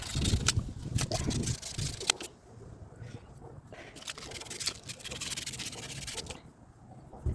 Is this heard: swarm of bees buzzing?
no